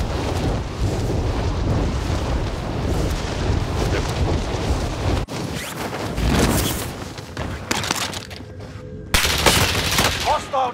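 Light machine gun fire in a Call of Duty match: sustained dense bursts of rapid gunfire and blasts, loud and close, breaking into shorter volleys with brief pauses, with voices over it.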